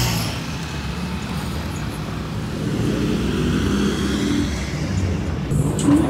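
Steady night-time city street traffic, a continuous broad rumble of passing vehicles with slow swells in loudness, close and dense, no voices.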